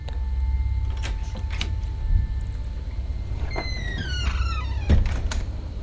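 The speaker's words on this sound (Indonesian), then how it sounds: "berjalan menuju pintu untuk membuka pintu" A door opens with creaks and clunks amid a steady low hum, followed by a rising squeal of hinges and a final thud.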